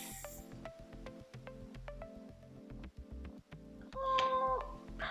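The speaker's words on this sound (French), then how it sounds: "on a eu des bébés chats en fait qui sont nés dans notre grange, donc pas de nos chats, mais du coup, et là ils sont sur ma terrasse" Kittens born in a barn meow on a terrace, several short mewing calls spread through the clip over a steady background music bed, with a louder, clearer cry near the end.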